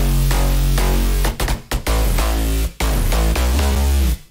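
Layered synth bass patches built in the Vital synthesizer for a future house track, a loud sustained low-end tone pulsing in rhythmic stabs, with two brief gaps, and no voices.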